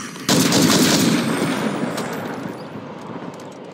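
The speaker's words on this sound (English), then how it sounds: "I love this assault rifle." Assault rifle fire in the zombie survival game State of Decay 2, a dense burst that starts abruptly and rolls on loud and close before slowly trailing off into a fading echo.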